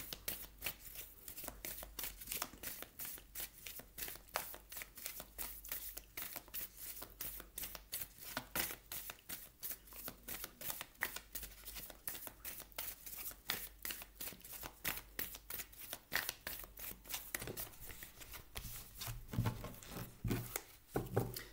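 A deck of oracle cards is shuffled repeatedly by hand, a close, brisk run of rapid riffling flutters and soft slaps that continues without pause.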